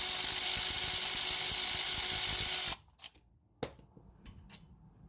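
A powered socket wrench whirs loudly and continuously at close range while loosening a 14mm brake caliper bolt on a Jeep Renegade, then cuts off abruptly, followed by a few short metallic clicks and taps.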